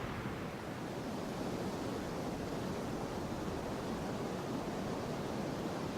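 Wind blowing across an outdoor golf course at a professional tour event, a steady broadband rush that stays even and unbroken throughout, with no voices heard.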